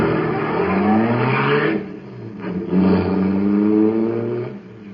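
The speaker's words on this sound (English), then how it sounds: "that cosmic surface car is really roaring" Loud, steady roar of a supercharged car engine running on special fuel, rising and surging across the whole stretch with a brief dip midway, close and alone without voices.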